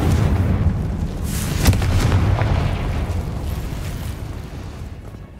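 Confringo fire spell in the Hogwarts Legacy video game, a sustained rumbling, crackling blast with a sharper burst near the middle that tails off slowly.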